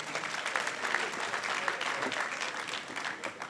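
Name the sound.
audience applause at school awards ceremony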